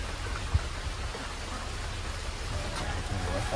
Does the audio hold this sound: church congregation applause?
no